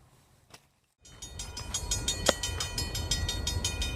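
A train rolls up to a railroad crossing, its steady rumble and rhythmic clatter starting abruptly after a brief quiet and holding loud and close, with a sharp accent partway through.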